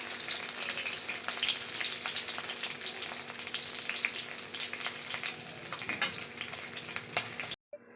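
Fish pieces coated in gram flour fry in hot oil, a steady close sizzle with crackling pops throughout, then cutting off abruptly near the end.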